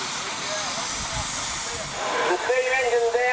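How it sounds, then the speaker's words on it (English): Steam traction engine releasing a loud, continuous hiss of steam at an outdoor steam rally, close and steady throughout, with faint voices and machinery tones rising near the end. "The steam engine down on the west end, he's got it in the neutral."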